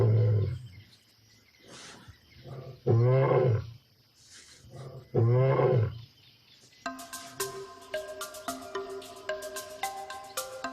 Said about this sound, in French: Le lion prend son mal en patience en rugissant pour signaler qu'il est désormais le seul maître de ce territoire.